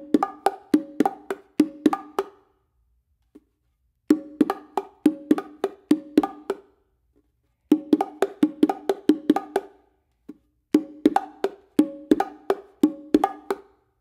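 A bongo pattern of ringing open tones and short muffled strokes, played in quick clusters and repeated several times with brief gaps, close and unaccompanied.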